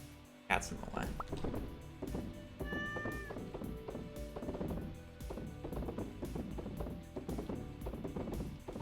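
A cat in the Stardew Valley farming game meows a few times, short mewing calls heard over the game's background music and sound effects while a player talks.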